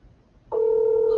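A speakerphone call begins ringing out: after near silence, a steady electronic tone switches on abruptly and holds, clear and close.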